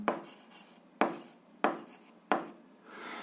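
Pen on paper writing notes by hand, four distinct strokes landing about every half second with soft scratching between them, quiet and close with no talking.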